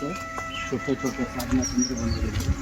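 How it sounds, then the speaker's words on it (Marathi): Birds chirping and calling in short bursts at a moderate distance during heavy rain at a meditation centre, mixed with background talking and outdoor noise. "तुम्ही आवाज ऐकू शकताय पाखरांचे"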